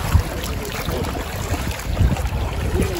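Ferry boats idling and moving on the water at James Bond Island, Thailand, a steady low engine rumble mixed with wind buffeting the microphone and lapping water.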